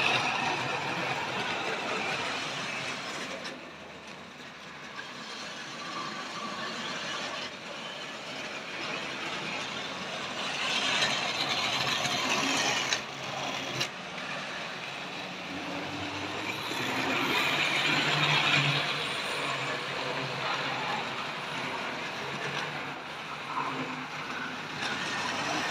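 A Tri-ang Hornby RS.9 model train running along its track, giving a steady whirring rumble with rolling clatter that swells and fades as it moves nearer and farther, with no talking.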